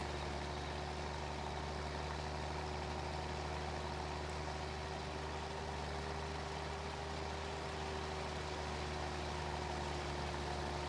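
Tractor engine idling in Farming Simulator 22, a steady low drone with a constant hum and a faint whine, running evenly and alone for about eleven seconds.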